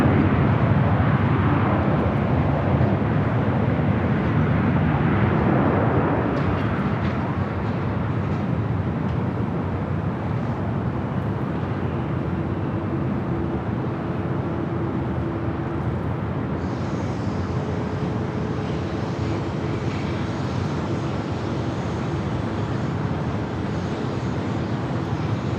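Airliner taking off on runway 24 left at LAX, a broad distant jet roar sustained throughout with a steady rumbling wash that slowly shifts in tone, with no voices.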